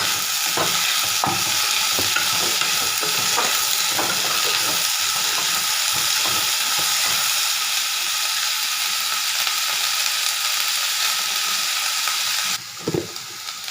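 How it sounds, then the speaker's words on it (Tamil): Broad beans (avaraikkai) fry with curry leaves in a hot pan, giving a loud, steady sizzle with occasional stirring scrapes, ending abruptly near the close. "அவரைக்காய் வறுவல் போட்டு கொஞ்சம் வதக்கிக்கணும்"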